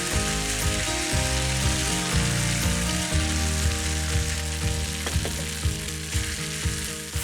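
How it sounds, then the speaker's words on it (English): Butter and olive oil sizzle loudly in a pan with potatoes for rösti, a dense, continuous frying hiss close to the microphone, with scraping and knocking from stirring or pressing throughout. "I hear that butter and olive oil sizzling up in the back."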